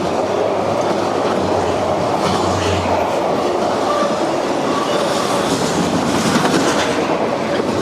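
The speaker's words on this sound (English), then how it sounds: "This train runs with intermodals a lot of the time on the front." Loud freight train carrying intermodal containers rolling past close by in Kentucky, a continuous heavy rumble with rhythmic wheel clatter throughout and no talking.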